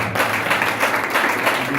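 A church congregation at a crusade service applauding and acclaiming Jesus, with dense, steady clapping and crowd noise filling a brief moment.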